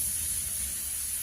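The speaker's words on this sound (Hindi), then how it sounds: "तो अब मैंने देखना है इसका कुकर ढक्कन खोल" A pressure cooker lid is opened on cooked dal, releasing a steady, even hiss of steam that holds at a constant level for the whole moment, with no voices.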